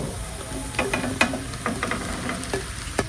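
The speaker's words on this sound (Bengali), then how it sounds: "তারপর দু এক মিনিট সতে করার পর আমি দিয়ে দিচ্ছি মাশরুমগুলো" Mushrooms sauté in a pan with coriander powder and green chili, giving a soft, steady sizzle broken by irregular scraping and stirring clicks from the spoon, close and fairly quiet with no talking.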